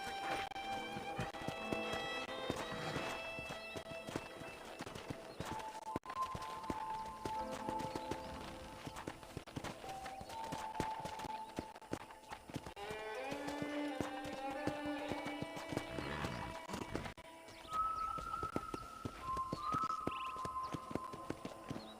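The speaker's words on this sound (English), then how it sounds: "let's see if you can still ride a horse" Horse hooves clip-clop steadily in Red Dead Redemption, a quiet rhythmic trot running beneath a faint musical score, with occasional louder tonal notes above it.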